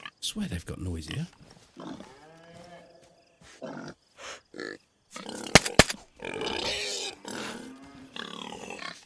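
Pig grunts in the survival video game DayZ, several short rough calls mixed in with someone talking close by.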